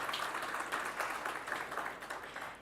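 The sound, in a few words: audience applause at a corporate event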